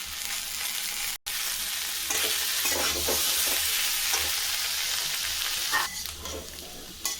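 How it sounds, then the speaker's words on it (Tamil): Taro root pieces frying with a little tomato in a pan, stirred steadily: a continuous close sizzle with scraping stir strokes and a brief drop-out early on. "கைவிடாமல் கலரி விடுங்க. கொஞ்சமாக தக்காளி சேர்த்துக்கிறேன்."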